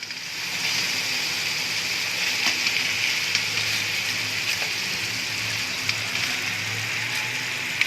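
Chicken karahi roasting in a pan, a steady, bright sizzle and crackle of frying that runs unbroken throughout, close and fairly loud, with small pops scattered across it.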